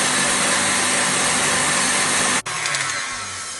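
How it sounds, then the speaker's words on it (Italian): A stand mixer beating apple walnut cake batter runs with a steady loud whir, then cuts off abruptly and a quieter hum continues as it winds down. "Dopo un quarto d'ora abbiamo spento la planetaria"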